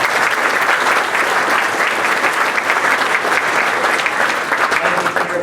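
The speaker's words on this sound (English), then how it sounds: "we can round of applause." Steady, dense applause from a conference audience, loud and continuous throughout with no pauses.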